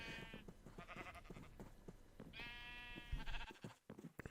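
Several sheep on a video game farm bleat in turn, a quick run of wavering baas followed by louder, longer cries, fairly close and with no talk over them.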